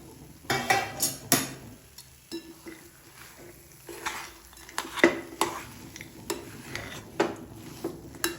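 Date barfi mixture of khajoor and mawa roasting in a pan, a spatula repeatedly scraping and knocking against the metal in irregular bursts over a faint background, no voices.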